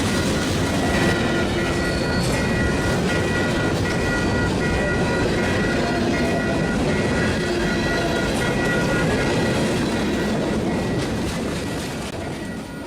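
Freight train 929 rolls into the Rouse's Point siding, a broad, continuous rumble of wagons with rhythmic wheel clatter and faint metallic squeal, loud and close throughout before easing slightly at the end.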